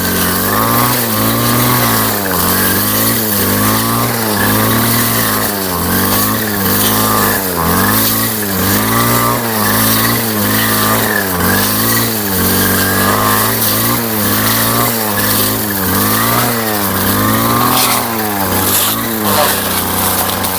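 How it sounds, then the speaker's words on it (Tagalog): A loud motor cutting thick grass drones continuously, its pitch dipping and recovering in a regular cycle as if bogging down under load, with no talking. "Nahihirapan ang makina, sobrang dami ng packing."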